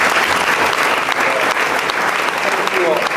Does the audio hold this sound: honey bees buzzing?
no